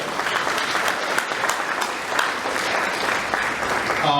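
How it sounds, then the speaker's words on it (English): A ceremony audience at a medal presentation for Chinese American World War II veterans gives a full, steady round of applause, dense clapping filling the room throughout. "Give her a round of applause as well"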